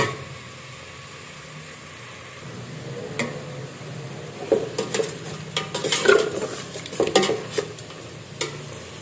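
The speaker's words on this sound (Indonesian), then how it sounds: "Jadi cukup kita rebus, masak rebus daging kelelawar." Bat meat simmers in water in a pot without oil, a soft steady bubbling hiss broken by scattered clinks and scrapes of a utensil against the pot, growing busier toward the end.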